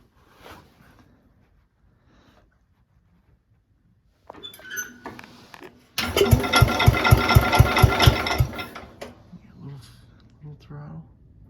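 A small Cub tractor engine sputters to life after choking, a rapid, loud, close chugging that runs for a few seconds and then fades, with brief talk and handling noises before it.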